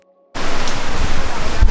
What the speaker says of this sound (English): It's raining super heavily